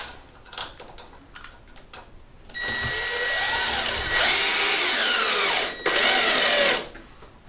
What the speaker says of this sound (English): it's often a good idea to drill a pilot hole